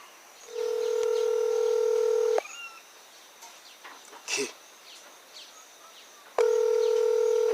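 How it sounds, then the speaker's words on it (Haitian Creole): A telephone ring: a steady electronic tone sounds for about two seconds, breaks off into quiet background with faint chirps and a brief noise, then starts again near the end. "Le téléphone ça sonné là"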